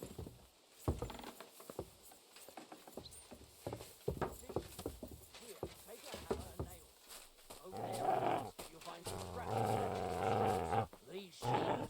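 Dog growling in the game Kingdom Come: Deliverance II, low rough snarls and roars with hoof-like clip-clops in the background, loudest near the end, mixed with game noise.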